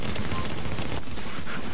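Rapid automatic gunfire in the shooter game The Division, a dense continuous fusillade of shots filling the whole moment at close range.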